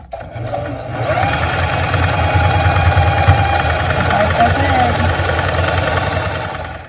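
A sewing machine hems fabric edges with a loud, continuous, fast mechanical whir and rattle that starts after about a second and runs steadily to the end.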